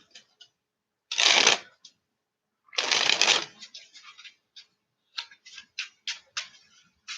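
A deck of playing cards being shuffled by hand: two loud, rushing riffle bursts close to the mic, followed by a run of quick, crisp card clicks and taps.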